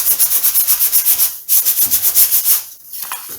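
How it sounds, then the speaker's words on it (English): Sandpaper rubs briskly over a part of a Jasco Spotter biplane model airplane in quick, regular back-and-forth strokes, loud and close, pausing briefly midway before resuming and then trailing off. "you can sand it smooth"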